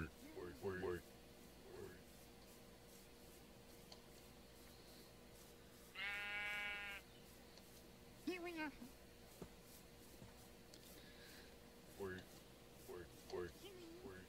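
Sheep in the video game Minecraft bleat a few times, short wavering calls at moderate volume spread across the stretch, with occasional talk and game sounds between them.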